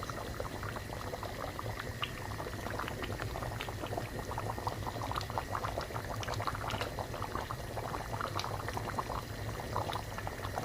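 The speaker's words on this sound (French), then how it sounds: "Là, ça commence à bouillir déjà." A sauce for a smoked fish and horse mackerel broth with leaves bubbles steadily in a pot, giving a continuous close, even boiling crackle and simmer with no voices.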